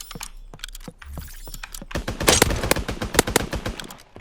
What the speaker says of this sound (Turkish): Baksana biri sıkıyor bak